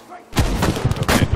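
Cannons fire in a naval battle video game, a quick series of heavy booming thuds after a short quiet start, mixed with a player talking over the shots.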